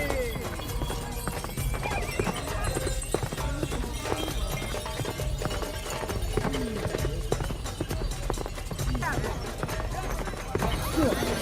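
Horses gallop at the Pasola mounted spear-fight festival, with busy overlapping hoof clatter, occasional whinnies and a loud, crowded outdoor din throughout; voices shout and talk amid the action.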